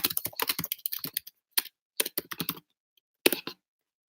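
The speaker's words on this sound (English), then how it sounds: "I'm going to try typing it up for you" Quick bursts of soft tapping on a phone screen come in clustered runs with pauses between them, close and fairly quiet, with no voices.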